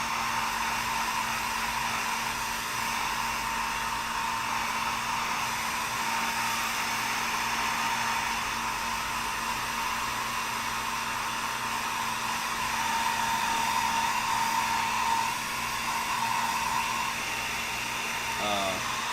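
A hair dryer blows steadily and continuously, a constant whooshing roar with a faint whine running through it.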